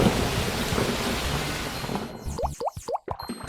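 Heavy rain pours steadily, then gives way to a series of sharp, echoing cracks of thunder near the end. The sound is loud and close, with no voices.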